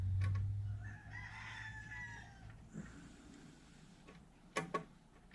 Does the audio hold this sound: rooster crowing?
yes